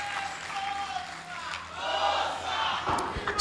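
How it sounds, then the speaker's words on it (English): University students in a crowd cheering and shouting a welcome for their vice chancellor at a convocation, a loud swelling roar of voices that builds toward the end. "you could hear the background students of university giving the Vice Chancellor a rousing welcome"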